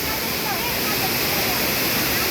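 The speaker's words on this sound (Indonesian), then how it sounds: "ini dia air terjunnya, 2 unduk." Waterfall at Curug 2 Unduk near the Cidahu dam camp, a steady, dense roar of falling water filling the whole clip at close range, with no pauses or talk.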